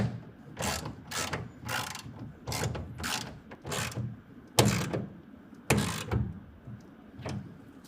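A ratchet clicks in short repeated strokes, close and fairly quiet, while tightening a clamp on a BAKFlip MX4 tonneau cover fitted to a 2024 GMC Sierra 1500 pickup, with brief pauses between pulls.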